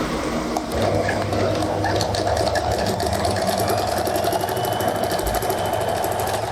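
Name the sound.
sewing machine stitching trouser seams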